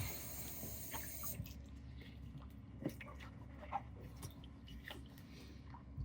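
Water soaks into a pair of goalie gloves, a quiet wet squelching with soft drips and trickles, after a brief running-tap rush at the start.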